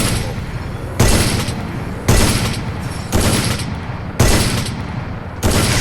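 Loud sniper rifle shots in the Free Fire video game, five booming reports spaced about a second apart, each ringing out briefly before the next.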